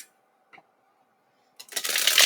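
Tarot cards being shuffled by hand, a short riffling burst that starts after a quiet pause and builds into a steady, close flutter of card noise with no talking.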